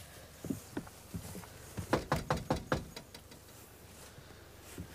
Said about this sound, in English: We're gonna go knock on the door.